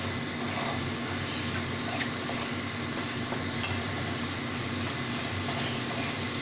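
Hilsa fish head cooking down with ginger and mustard paste in a pan, giving a steady, close sizzle with soft stirring scrapes throughout and no voices.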